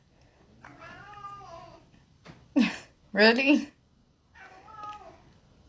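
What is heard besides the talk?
domestic cat meowing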